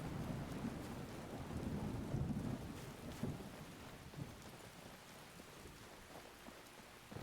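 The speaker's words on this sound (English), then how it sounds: "Boy, howdy, I dislike the rain immensely." Steady rain with rolling thunder in the video game Skyrim, a dense wash of downpour with low rumbles swelling and fading throughout, fairly distant and continuous with no voices.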